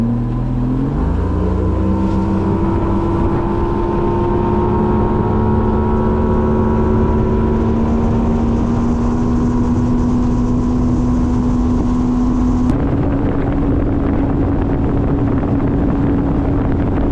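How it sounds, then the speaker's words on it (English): A fishing boat's outboard motor drones loud and close as it runs out to a spot on a very cold day, pitch rising as it speeds up, with wind buffeting and a shift in tone near the end. "hop back in the boat, head to our first spot"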